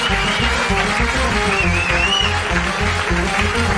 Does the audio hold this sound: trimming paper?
no